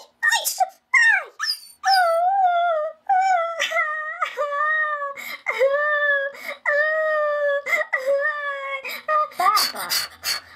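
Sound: puppy howling

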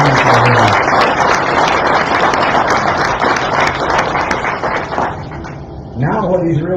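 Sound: round of applause

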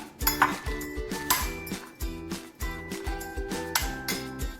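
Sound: mixing chopped chilli, coriander and spring onion in a bowl

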